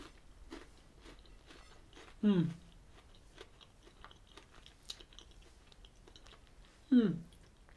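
Someone chewing a KitKat Senses Millionaire's Shortbread wafer bar with a shortbread and chocolate filling, producing faint, close crunching and clicking bites, broken by two brief voiced murmurs.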